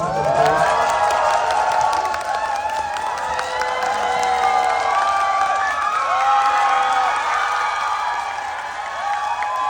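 A theater audience cheering, whooping and applauding as a film director and actors enter, loud and sustained, with high excited shouts over continuous clapping.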